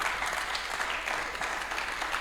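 A church congregation applauds together in a steady, dense wash of clapping that stays even and fairly loud throughout, with no voices on top.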